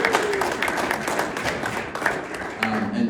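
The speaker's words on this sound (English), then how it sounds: "let's get a round of applause" An audience claps and applauds steadily, a dense wash of hands with a few sharper claps and faint cheers mixed in.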